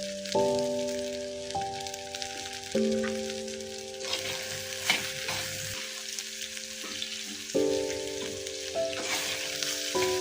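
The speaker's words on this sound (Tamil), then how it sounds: "சூடான தாவைக்கு அந்த பொரிச்ச எண்ணெய் இருந்து அதில் போட்டு ஃபஸ்ட்டாக கருவேப்பிலை கொஞ்சம் ஃப்ரை பண்ணிக்கிட்டேன்" Curry leaves fry in hot oil on a hot tawa, giving a steady crackling sizzle with occasional stirring scrapes alongside a sustained tonal background.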